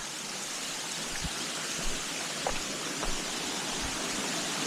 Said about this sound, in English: creek coming down the mountain, as you can see, some waterfalls